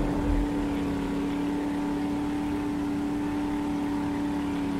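Steady vehicle engine drone while driving in the game 7 Days to Die, a continuous low hum with a constant tone running evenly throughout, with no talk over it.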